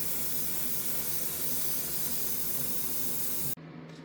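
Base coat paint is sprayed onto the interior of a 1:32 scale model Winnebago RV as a steady, close hiss for about three and a half seconds before cutting off sharply, leaving quiet room tone.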